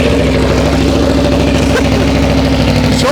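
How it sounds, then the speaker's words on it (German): An Aprilia RSV4 1100 Factory motorcycle with an SC-Project GP22 exhaust runs close up, its engine a loud, continuous, throbbing burble with a rapid pulsing rhythm and no talk. "wir starten jetzt mal ganz kurz das Bike."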